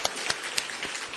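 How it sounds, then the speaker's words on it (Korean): A church congregation claps during a testimony service, with a few distinct, fairly close claps over a soft, uneven patter of hands. "미리 다시 한번 박수할까요?"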